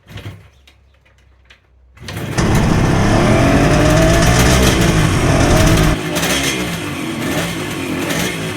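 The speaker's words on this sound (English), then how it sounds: "The S2A finds itself behind the H2 on the leaderboard, only requiring 2 kicks to start." A 1973 Kawasaki S2A 350 two-stroke triple motorcycle is kickstarted: a couple of quiet mechanical knocks, then the engine catches into a loud, raspy idle that revs briefly before settling into a steady, slightly lower burble, close up.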